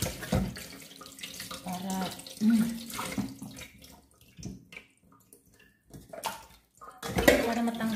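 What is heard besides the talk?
washing raw chicken meat under running tap water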